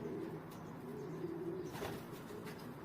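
Racing pigeons returning home after a race coo faintly in soft low repeated phrases against a quiet background, with a brief flutter of wings near the middle.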